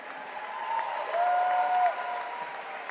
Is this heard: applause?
yes